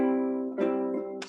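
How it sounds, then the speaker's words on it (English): Strummed downstrokes in swing time on a guitar, close and fairly quiet, with a sustained chord ringing before two more strums land with bright attacks about half a second apart. "swing time sounds like this with just downstrokes"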